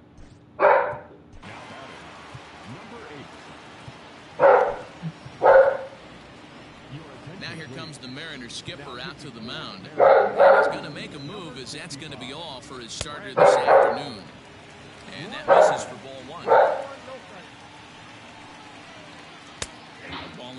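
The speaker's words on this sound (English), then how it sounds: "Watch him start barking as soon as you leave." A dog barks in short bursts, roughly nine sharp yelps spaced unevenly across the stretch, close by and fairly loud, while baseball video game play-by-play commentary talks steadily underneath.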